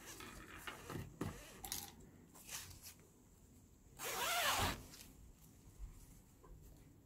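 A concealed zipper is pulled up along sewing fabric in a quiet room, giving one brief raspy zip in the middle among soft handling rustles.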